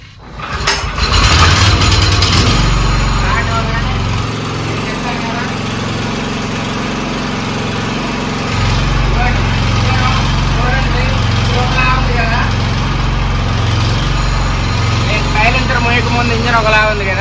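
A Honda GX390 engine on a fire engine water pump, started by hand, catches with a loud roar and settles into a steady idle whose tone shifts partway through, with someone talking over it.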